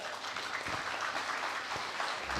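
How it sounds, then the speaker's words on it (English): Applause from a forum audience for a panel, steady clapping that stays at an even, fairly soft level throughout. "Can we have an even louder applause, please, for our final panel?"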